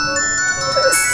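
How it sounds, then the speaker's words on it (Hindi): A phone rings with a steady electronic tone pattern that sounds somewhat distant, with a brief burst of high hiss near the end. "फोन की आवाज आ रही है"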